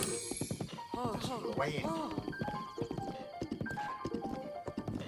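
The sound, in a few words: horse hooves in Breath of the Wild video game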